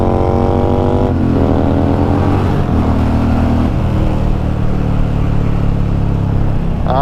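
A 2009 Kawasaki Vulcan 900 Custom with Cobra intake and exhaust and a reflashed ECU roars at full throttle, loud and steady, its engine note climbing through several rising gear pulls with no talk over it.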